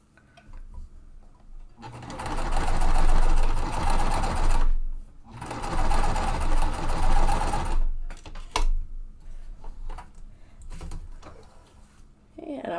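A sewing machine stitches quilt seams in two long loud whirring bursts, followed by shorter stops and starts and small handling clicks, with a voice speaking in between.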